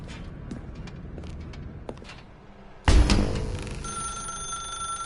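A telephone rings suddenly in The Stanley Parable video game, a loud bright ring that cuts in after quiet footsteps and ambient room tone, then carries on ringing steadily.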